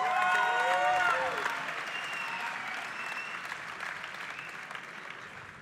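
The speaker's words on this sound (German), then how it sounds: "Ihr Applaus für Robert Dimitrios und Kevin Entz." An MMA event crowd applauds steadily as two fighters are introduced, dense clapping starting loud and slowly tapering off, with a tone or music briefly heard near the start.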